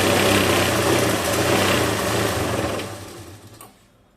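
A sewing machine runs steadily while stitching a fall onto a saree, a loud close mechanical whir that slows and fades near the end.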